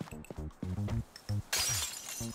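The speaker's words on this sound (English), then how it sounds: "Don't worry about broken glass." Glass shatters in the co-op moving game Moving Out 2, a bright crash after a run of short cartoonish thuds and bumps from the game, with the breaking debris trailing off.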